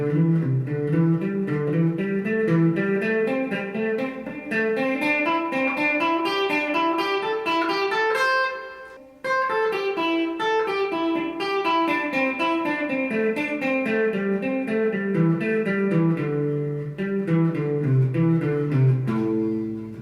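Distorted electric guitar runs a fast ascending and descending pentatonic sequence in groups of four, rising then falling, pausing briefly midway before repeating.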